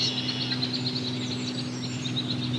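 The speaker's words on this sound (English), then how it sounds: "I hear a Warbling Vireo." Warbling Vireo singing high in the tree canopy of a park in late May, a faint, repeated wavery warble carrying from a distance over steady low background hum.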